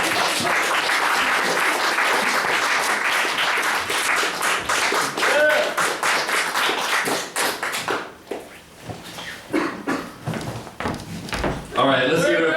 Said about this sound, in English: Haphazard applause.